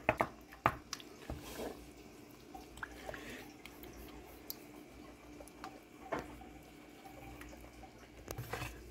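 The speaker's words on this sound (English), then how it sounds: "the refried beans, the enchilada sauce, and the cheese, and give it a good stir" Refried beans, enchilada sauce and cheese being stirred together with meat, giving soft wet squishing and a few sharper clicks of the spoon against the dish, close and fairly quiet with no talking.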